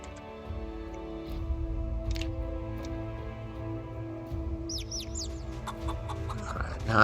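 Chickens cluck and chirp in Project Zomboid, small scattered clucks over a steady hum of background music, with a few higher chick-like peeps bunched near the end.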